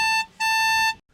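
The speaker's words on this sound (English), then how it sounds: "Eeyore was trumpeting on a little horn." A toy horn gives two bright, buzzy toots, a short one then a longer one, close and loud with no talking.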